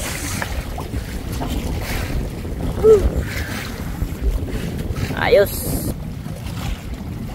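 Strong wind buffets the microphone over a steady rush of water and boat noise at sea, with a brief spoken word partway through.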